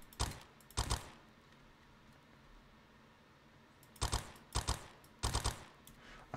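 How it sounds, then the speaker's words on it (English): Video game gunfire: short rapid bursts of shots, two near the start and three more after a quiet pause, fairly faint against a low background hum. "Try shooting."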